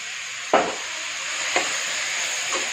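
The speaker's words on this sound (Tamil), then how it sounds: "இப்போ பொடியெல்லாம் இதில் நல்லா மிக்ஸ் பண்ணிக்குவோம்" Spice powders stirred into tomato and vegetables in a pan for stuffed chapathi filling, a few soft scraping strokes over a steady sizzle of frying, spaced about a second apart.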